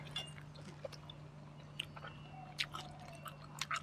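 Meatballs eaten with dipping sauce, heard as close, moist chewing with soft crunches and wet squishes in an irregular rhythm, repeating over a steady low background hum.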